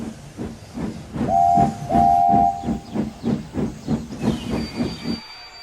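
A steam locomotive hauling freight cars chuffs in a steady rhythm with constant hissing, and two shrill whistle blasts sound partway through.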